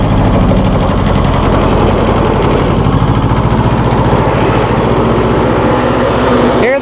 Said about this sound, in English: Hear the mower working back there.